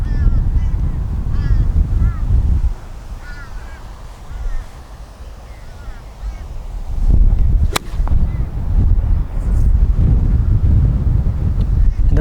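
Strong wind gusts buffet the open, boggy ground outdoors: a loud, steady rumble that dips briefly, then swells again, with one sharp crack near the middle.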